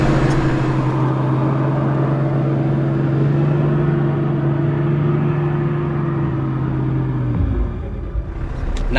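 A 4WD engine hauling a camper trailer up the Big Red sand dune in the Simpson Desert drones loudly and steadily for several seconds, then the revs drop and shift near the end.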